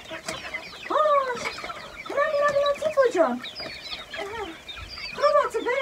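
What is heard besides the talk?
chicks and hens clucking at feeding time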